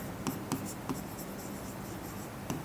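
Chalk or marker strokes on a board during a Class 9 geometry lesson on lines and angles, a handful of short, crisp scratching taps spaced unevenly over a steady room hiss, with no talking.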